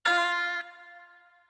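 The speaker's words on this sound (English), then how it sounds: "a simple little one shot which sounds like this, it's a little guitar thing" A short guitar one-shot sample, a single bright plucked chord that rings brightly for about half a second and then fades into a quieter sustained tail.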